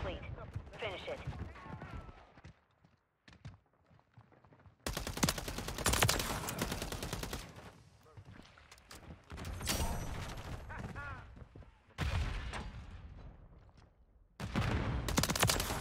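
Holger 556 rifle fire in Modern Warfare 3, loud rapid bursts of automatic gunfire in several stretches with short pauses between, close and dense, with game sounds and a voice talking in the gaps.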